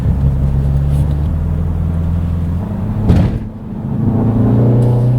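A 2025 Mini JCW engine drones and shifts pitch as it accelerates and eases off through a series of bends, with a brief whoosh midway, steady and close throughout.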